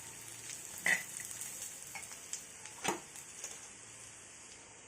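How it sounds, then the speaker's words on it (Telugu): Onion pieces frying until brown in a pan, giving a steady, close sizzle broken by two sharper spatula scrapes; no one speaks. "ఉల్లిపాయ ముక్కలు ఇలాగా బ్రౌన్ కలర్ వచ్చే వరకు బాగా ఫ్రై చేసుకోవాలండి"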